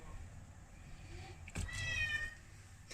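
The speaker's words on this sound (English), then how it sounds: "There's the cat again." A house cat meows loudly in a home kitchen during cooking, a single drawn-out, wavering cry of about half a second that stands out over faint background room noise.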